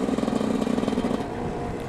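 Continuous rasping hum of a small two-stroke 50cc motorbike engine held at a constant speed in fifth gear, near and steady, easing off slightly toward the end.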